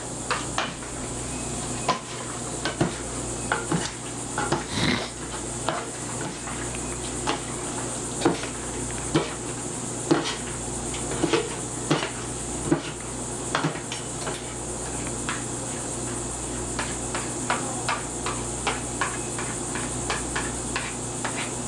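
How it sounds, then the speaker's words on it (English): Spaghetti with mushrooms and spinach being tossed in a casserole with two spoons, a steady series of light clinks and scrapes against the dish over a soft background hiss. "Use your 2 spoons, use the tossing motion."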